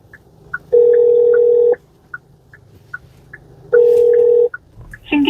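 A phone ringback tone plays in a taxi while the call connects the driver to a passenger, two long steady tones separated by a pause over a faint repeating beep, loud and close, no speech.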